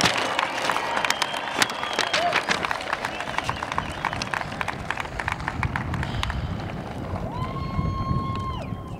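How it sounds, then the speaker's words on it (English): Audience applause for graduating seniors at a high school graduation ceremony, a broad sustained crowd clapping at moderate distance that fades toward the end, with a faint voice. "So if we can just get one more round of applause, a final round for these guys."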